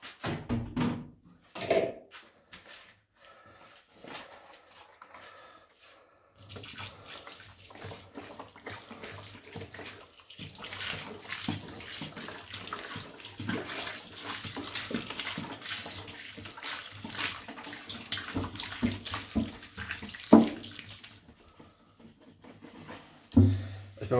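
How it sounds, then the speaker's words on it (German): Water poured into a tub of flake soil substrate mix, a sloshing, splashing pour that runs fairly steadily with a few knocks and bumps of the container, faint and close. "Jetzt kommt noch das restliche Wasser dazu."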